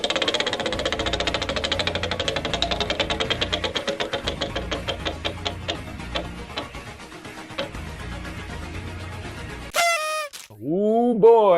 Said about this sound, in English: Yes, it's the Final Jeopardy wheel spin to determine one of the categories next week